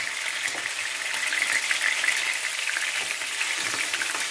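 Chicken browning in a pan while preparing a chicken, cauliflower and potato bake, with a steady, close hiss and crackle of frying throughout, no one speaking.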